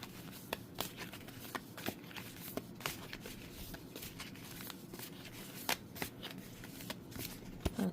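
Tarot and oracle cards being shuffled quietly and close, with soft rhythmic riffles and sharper snaps and taps at irregular intervals.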